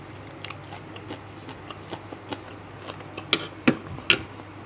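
Someone bites and chews food, likely a Thai spicy salad with century eggs and shrimp, with soft chewing and a few sharp close crunches growing louder toward the end, no talking.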